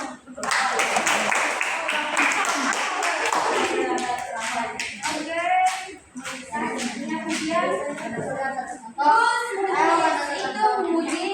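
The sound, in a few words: audience clapping hands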